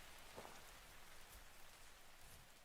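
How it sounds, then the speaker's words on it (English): Steady rain falls in the survival game Vintage Story, a soft even hiss of drops on surfaces with a few slightly louder patters, continuous and fairly faint throughout with no one talking. "Maybe it's just the rain."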